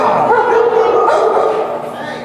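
Dogs at an indoor dog daycare yip and bark continuously in a dense, loud chorus, mixed with whimpers, while a person's voice talks over the noise.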